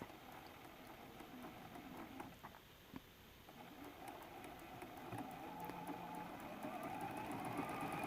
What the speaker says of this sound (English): We'll bring that over to the sewing machine